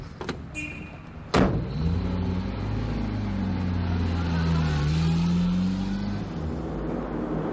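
A taxi pulling away in pursuit of another car, opening with a door slam, then a steady engine drone that rises and holds as the car drives off, loud and close throughout.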